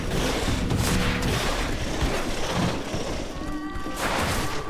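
Gunfire in the video game GreedFall, loud booming shots with crashing impacts over a continuous dense battle noise, no talking.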